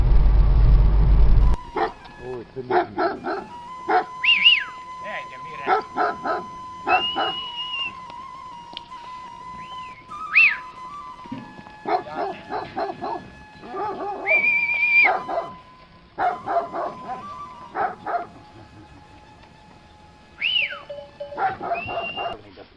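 Several dogs near a sheep dairy in the Veles countryside bark and yip in scattered bursts over more than twenty seconds, some close and some farther off, with quiet pauses between volleys.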